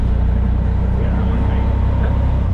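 Auto rickshaw engine droning steadily through a ride, a close, continuous low rumble with no break in pitch.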